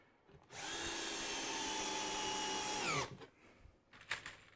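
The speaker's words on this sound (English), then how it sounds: "Right at the end there, you can hear the drill just going, that's pulling it tight." A cordless drill drives screws into a timber cart joint, running in one loud, steady whine for about two and a half seconds, then slowing and stopping, followed by faint handling noises.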